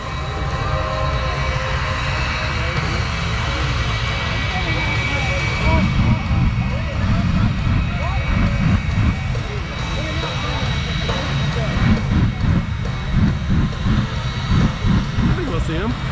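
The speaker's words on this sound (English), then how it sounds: "here comes a jet truck" Hot Streak jet truck at a night air show in Stuart, a loud continuous roar of jet engines filling the scene, with crowd noise and voices mixed in.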